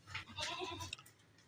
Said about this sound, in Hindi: वजनी बकरा है